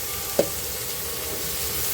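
Food frying in a pan at home: a soft, steady sizzle with a single brief click near the start, close and low, with no talk.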